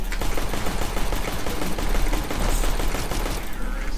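Rapid automatic gunfire from the video game Counter-Strike: Global Offensive rattles continuously, a dense, loud stream of shots, with faint voices beneath.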